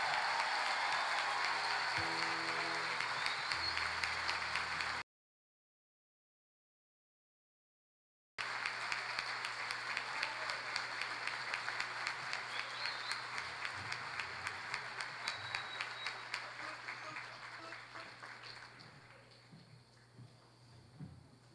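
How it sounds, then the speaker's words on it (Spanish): A graduation ceremony audience applauds the new graduates with sustained crowd clapping that pauses briefly, then returns as dense rapid clapping before gradually fading toward the end. "les pido un fuerte aplauso, por favor, a los nuevos profesionales"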